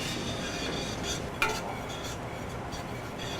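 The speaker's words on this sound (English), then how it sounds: "Now keep stirring and just add the heavy cream." A utensil stirs a thickening sauce in a pan, scraping and swishing continuously over a faint sizzle, with one sharper clink of metal on the pan.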